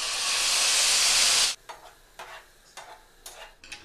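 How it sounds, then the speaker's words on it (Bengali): Marinated paneer goes into hot ghee in a wok, starting with a loud, bright hiss for about a second and a half before dropping to quieter intermittent sizzling and stirring bursts. "কড়াতে দিয়ে দেব ঘি, দিয়ে দেব মাখিয়ে রাখা পনির"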